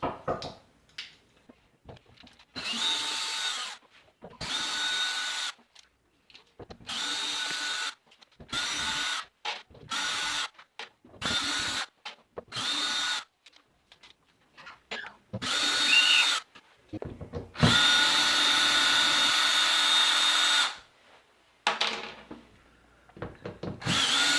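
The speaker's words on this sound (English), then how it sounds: "Let's start by removing these screws." A power drill backs screws out of an entry door's window frame in a string of short and longer close-up whirring bursts with brief pauses between them, and a faint voice can be heard now and then.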